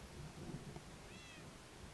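A house cat gives a faint, short meow with a rising-then-falling tone over steady low background noise.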